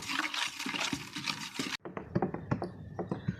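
Water pours and splashes into a bucket while 8 liters are added for a homemade soap mixture, a steady broadband rush that breaks off abruptly partway through, followed by irregular sloshing splashes.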